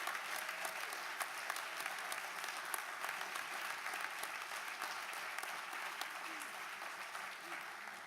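A crowd at a college inauguration ceremony gives steady, sustained applause that holds at an even level for the whole stretch, with no clear voices above the clapping.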